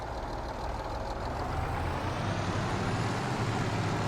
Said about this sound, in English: At least I can actually use the truck more often now.